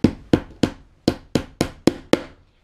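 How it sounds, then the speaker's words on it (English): Hammer driving nails into a wooden farmhouse floating shelf, eight loud close blows in a steady, slightly uneven rhythm, each a sharp thwack with a short ringing decay. "Don't laugh at how I hold my hammer."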